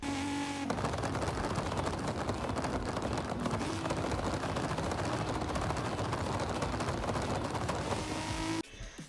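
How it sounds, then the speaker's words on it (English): Rapid machine-gun-like anti-lag pops and crackles from a turbocharged car under deceleration in the racing game Forza Horizon 5, loud and dense, layered over turbo whine and engine roar for most of the stretch. "you've got freaking anti-lag that sounds like a machine gun every single time you're slowing"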